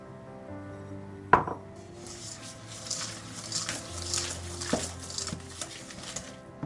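A whisk mixes sugar into pastry dough in a bowl, with soft irregular scraping and stirring, a sharp clink against the bowl near the start and a few lighter knocks later, over a quiet background.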